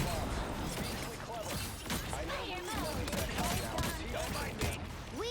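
Rapid gunfire in Marvel Rivals aimed at Loki, with bursts of shots mixed with game effects and chatter across the whole stretch, moderately loud and busy.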